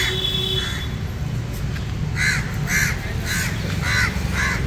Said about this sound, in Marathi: वा वा किती कावळे आले बघा